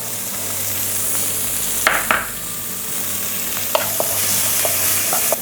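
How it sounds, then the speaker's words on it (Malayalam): Chopped onion, green chilies and curry leaves fry in hot oil with a constant crackling sizzle, broken by a few sharp spatula knocks and stirs. "ഒരു സവോള ചോപ്പ് ചെയ്ത് വെച്ചിരിക്കുന്ന ഇട്ട് കൊടുക്കുക"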